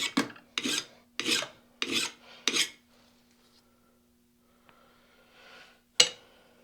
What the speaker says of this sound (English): So I'm tipping the file so it's only hitting this corner